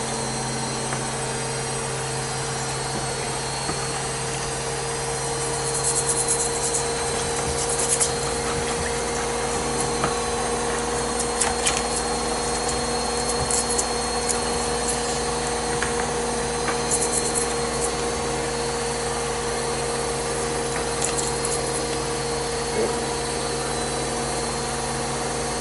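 A dug-up find from a Roman site metal-detecting dig is scrubbed with a toothbrush, giving a steady, close rubbing hiss with a few sharper scratchy strokes over a constant low hum.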